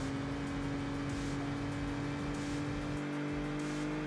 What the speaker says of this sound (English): Oh, it sounds so good as well. That carbureted inline 6.